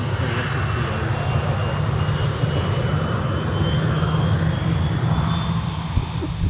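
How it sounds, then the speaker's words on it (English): A KLM airliner arriving at Manchester from Amsterdam gives a steady, loud low engine roar with a faint high whine, continuous and unbroken with no voices. "KLM 73 just arriving at Manchester from Amsterdam"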